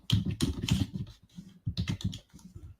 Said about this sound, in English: What is the symbol I type in,